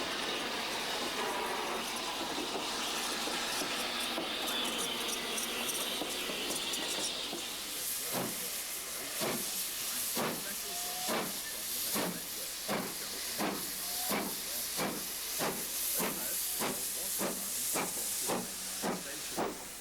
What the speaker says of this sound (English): Next stop for this S15 haul train is hopefully East Grinstead